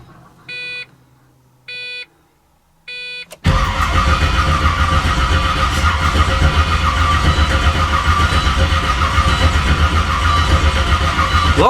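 A 2006 Pontiac GTO V8 with a large cam cranks and fires to life after a few short electronic dash chimes, then settles into a loud, steady, lopey idle that rumbles on close by.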